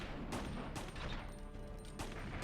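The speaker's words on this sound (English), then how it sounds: "He shoots that missile" Nemesis fires a missile in the Resident Evil 3 Remake video game, heard as a quiet rumbling burst of game gunfire and blasts lasting a couple of seconds, with no talk.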